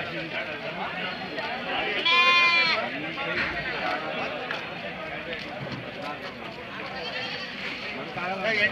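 A goat kid lets out a loud, wavering bleat amid a busy crowd of overlapping voices and chatter at a young-goat market in Gubbi, with more faint bleats further off.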